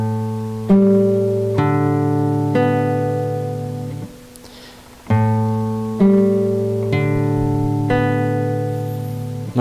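A classical guitar is fingerpicked in a thumb, middle, index, ring pattern, clear single plucked notes ringing close and alone in two repeated phrases separated by a short pause.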